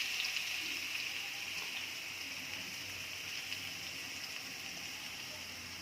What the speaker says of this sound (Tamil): எண்ணெய் காஞ்சிட்டு இந்த அளவு ஜீரகம் போட்டுக்கலாம்